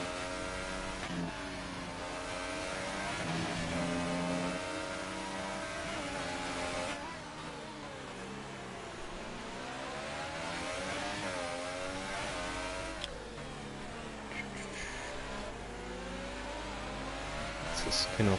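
F1 2018 race cars with engines whining and rising through gear changes for the whole stretch, one car close behind another out of the final corner, with commentary over the engines.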